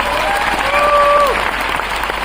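An audience at an MI Lifestyle business program in Nagpur claps steadily, a broad wash of applause with a few voices mixed in and what sound like whistles carrying over it.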